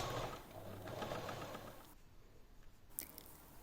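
A sewing machine stitches a bra seam, its needle running in a steady, close, fairly quiet hum for about two seconds, then stopping, followed by a few faint soft clicks.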